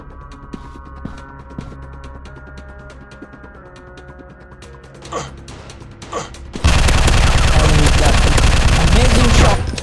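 Video game gunfire, scattered shots over a busy battle bed, then a sudden loud, dense burst of continuous automatic fire that fills the last few seconds.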